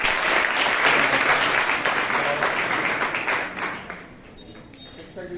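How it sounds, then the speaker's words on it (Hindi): An audience claps to welcome a guest at a Teacher's Day celebration: dense, loud applause that runs for several seconds and then thins out near the end. "हम ताली बजाकर सर"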